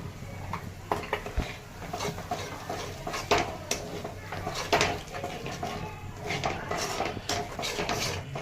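Paneer bhurji is stirred with masala and curd in a pan: scattered spoon scrapes and clinks against the cookware over a low kitchen background hum.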